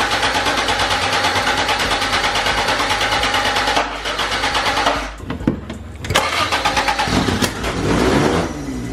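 A Toyota 4AGE small-port engine with individual throttle bodies and cams in an AE86 cranks and fires, then runs loud and close with a rough, lumpy idle and a brief dip before picking back up.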